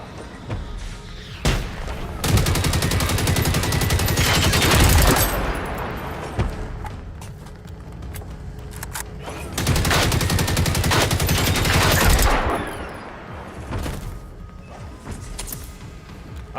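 Bursts of rapid automatic gunfire pound a robot in the video game Generation Zero, two long loud volleys separated by quieter stretches with scattered single shots and metallic impacts.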